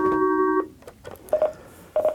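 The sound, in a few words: incoming phone call tone on radio hotline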